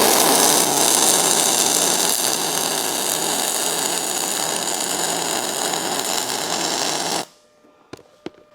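A MIG welder with a spool gun welds aluminum, giving a loud, steady close crackling hiss for about seven seconds before cutting off into near silence with a couple of faint clicks.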